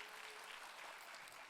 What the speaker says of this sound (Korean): 여기는 그래도 박수라도 쳐주니까 너무 감사하네요